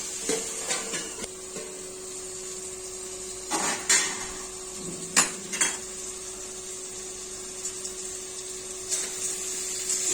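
A lid goes onto a pan of ridge gourd and poppy seed curry with a few metallic clanks and clinks over a low, steady background hum, followed by quieter scattered taps.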